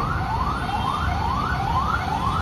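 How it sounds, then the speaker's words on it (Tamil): An ambulance siren at the Gandhipuram traffic signal by the flyover in Coimbatore wails loudly and close in repeated rising sweeps, about one every half second, over a steady wash of traffic noise. "ஆம்புலன்ஸ் ஒன்று போகுது"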